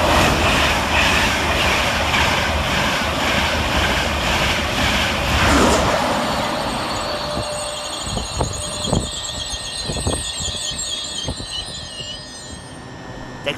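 A train rumbles loudly through Newark Northgate station at first, then fades, leaving squealing wheels and sharp metallic clanks echoing around an open platform.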